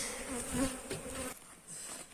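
Close buzzing of honeybees at an opened three-frame hive, dense at first, then thinning abruptly to a softer hum partway through.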